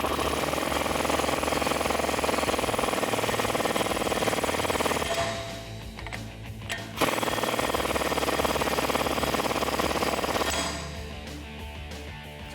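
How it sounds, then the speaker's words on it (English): A 36mm socket on a power tool tightens the front axle nut on a Jeep Wrangler JK hub, a loud continuous rattling hammer that drops off briefly, surges again, then eases near the end. "Then we can thread on our axle nut and tighten it up with that 36mm socket."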